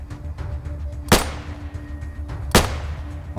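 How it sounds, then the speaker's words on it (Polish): Two sharp gunshots in the video game ATOM RPG, about a second and a half apart, loud and close over a low rumbling background. "Okej, Fidel, dwa celne strzały."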